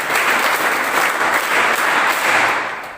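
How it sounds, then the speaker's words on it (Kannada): A school audience applauds farmers during a talk on exam fear for SSLC students, with loud, dense and sustained clapping from many people that tapers off at the end. "ಒಂದು ಚಪ್ಪಾಳೆ ಹೊಡಿಬೋದಲ್ಲ ರೈತರಿಗೆ?"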